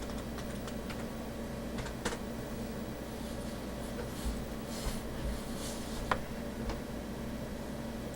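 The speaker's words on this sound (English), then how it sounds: "type in the password here" Password typed on a computer keyboard, faint scattered key clicks over a steady hum of room noise, with no speech.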